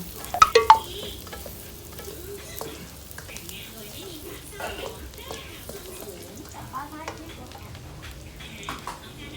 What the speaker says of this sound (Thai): ใส่กระเทียมไปนะครับ กระเทียมของเราสามกีบนะครับ ผัดให้หอมนะครับให้ออกเหลือง